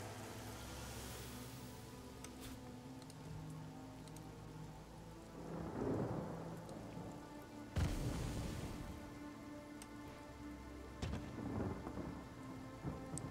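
Steady rain and rumbling thunder conjured by a rain spell in the Divinity: Original Sin video game, with a constant downpour and two or three heavy thunder rolls breaking through, alone without talk.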